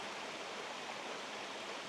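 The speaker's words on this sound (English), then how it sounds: "Look at that waterfall up there. Purest water coming out of that spring." A spring-fed waterfall spilling into a creek makes a constant broadband rush of falling water, steady and even throughout, moderately distant and soft, with no voices.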